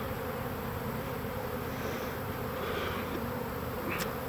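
A dense, steady buzzing of a honey bee swarm fills the air, continuous and fairly quiet, with no voices.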